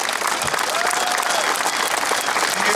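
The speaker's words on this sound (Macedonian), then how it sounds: "го заслужуваш овој аплауз" Protest crowd applauding in steady, dense clapping that holds at full loudness from start to finish, close and continuous.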